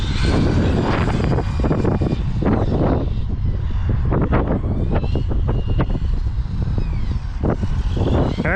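Strong wind buffets the microphone at an outdoor RC car track, a constant loud rushing roar throughout while someone talks over it.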